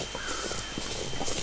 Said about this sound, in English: Gotta look out for birds as well, so there's some birds over there